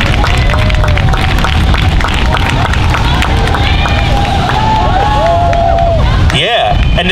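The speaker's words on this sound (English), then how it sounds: "Another big round of applause." An audience at FusionFest 2022 claps and cheers for the FIL Florida Dance Group after a Filipino folk dance performance. The applause is loud and sustained, with crowd voices mixed in and speech over it.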